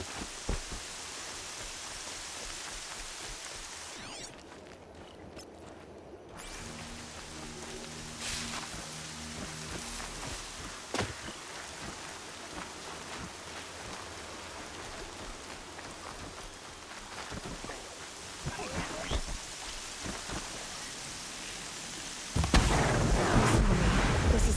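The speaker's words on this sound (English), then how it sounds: "More rain." Rain falls in the video game Horizon Zero Dawn as a steady, soft hiss throughout, broken by a few brief clicks and thuds and swelling louder near the end.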